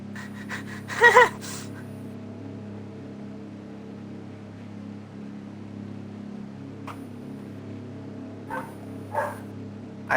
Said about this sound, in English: I don't know why she's barking, but oh well.